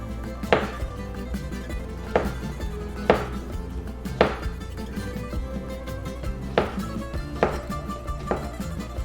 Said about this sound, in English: We're going to do about 1/4-inch slices all the way down the zucchini